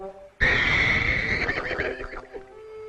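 A horse neighs loudly and close, a long whinny with a shaky, falling tail, heard alone after a brief quiet lead-in, in a puppet western adventure.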